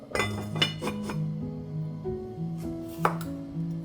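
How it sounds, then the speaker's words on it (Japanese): A kitchen knife cuts carrots on a board, giving close, sharp knocks and clinks spaced irregularly over several seconds, with faint ringing tones from kitchenware in the background and no speech. "早速人参をカットする。"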